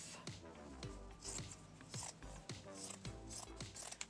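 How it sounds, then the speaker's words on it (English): Scissors cutting through a piece of felt, with a quiet, close run of about seven rhythmic snipping and rubbing strokes in steady succession. "I take my piece of felt and I cut it in half"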